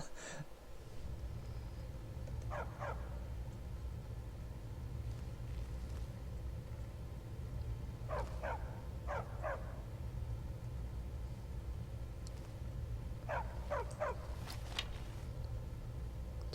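Dog barking in the video game Skyrim, several short sharp bark pairs at a moderate distance repeating through the scene over a steady low rumbling game ambience.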